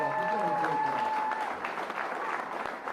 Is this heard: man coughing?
no